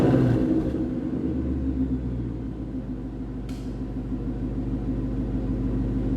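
Ford Mustang GT V8 from the 2018-2023 generation, fitted with a Corsa 3-inch Active Sport-to-Xtreme cat-back exhaust, idles and revs indoors in a studio with a steady, deep, loud rumble and a brief rise in pitch early on.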